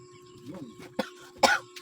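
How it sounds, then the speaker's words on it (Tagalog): A few short, sharp coughs close by, each a quick throaty burst after a quieter stretch, with faint background noise between them. "Ako na ubo."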